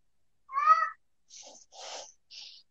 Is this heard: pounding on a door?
no